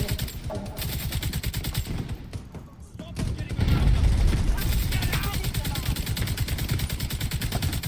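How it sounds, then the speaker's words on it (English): Rapid automatic gunfire in the video game The Division 2 rattles in fast bursts, loud and near, with heavier thumping fire swelling midway, under a speaking voice. "I'm getting shot from the side over here by him."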